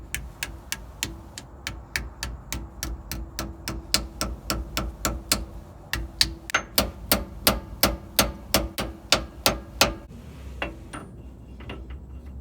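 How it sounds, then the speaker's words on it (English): A pinion seal being hammered into a GM truck differential, a long run of evenly spaced sharp metallic taps, about one or two per second, loud and close, pausing briefly before the strikes resume. "Now we can evenly tap all the way around until the surface of the seal is fully mated against the"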